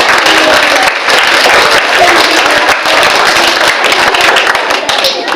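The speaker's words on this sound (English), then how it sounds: "Everybody give her a big round of applause." Audience at a live animal show breaks into brisk, loud clapping that carries on steadily for several seconds at close range.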